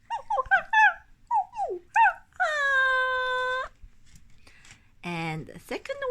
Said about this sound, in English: A pygmy dog.